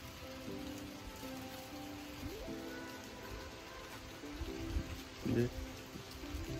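Outdoor rain falls under a grey morning sky as a soft, steady hiss of drops that stays fairly faint throughout, with a few louder patters and bumps near the end.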